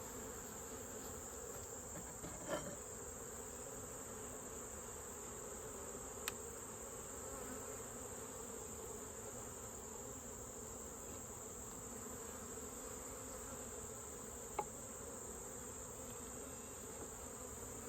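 Honey bees hum around an open hive while a frame of brood is handled in late summer, giving a steady, even drone with a few sharp clicks and knocks close by.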